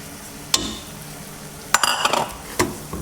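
Flour is stirred into melted butter in a pan over low heat, a faint sizzle under a few distinct scrapes and clinks of a utensil against the pan, close by with no talking.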